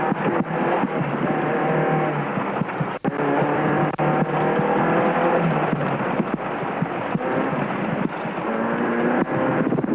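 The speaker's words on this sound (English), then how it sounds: "Grenier and Houghton were leading Class D in their Castrol Toyota" A Castrol Toyota rally car in the Carnival City 400 rally drives past at close range, its engine roaring continuously under heavy wind buffeting for the whole stretch.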